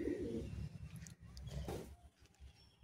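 Pigeons coo in a loft of Madrasi pigeons, low repeated throaty calls close by with a busy murmur of birds behind and a few faint chirps.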